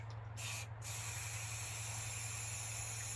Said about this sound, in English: Black chalkboard paint is just going to go straight into the top of the airbrush.